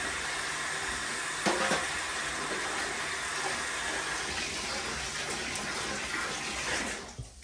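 Water squirted steadily into a motorcycle parts cleaner to rinse deposits from the bottom of the tank after washing dirty, rusty motorcycle parts: a continuous close, loud hissing splash that fades out at the end.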